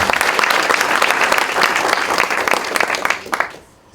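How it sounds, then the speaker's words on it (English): Loud, dense applause from an audience for the KenGen board and team at a stock market bell-ringing ceremony marking a rights issue listing, sustained for several seconds and then fading out near the end. "So I think the KenGen board and team, you deserve a very huge applause for that."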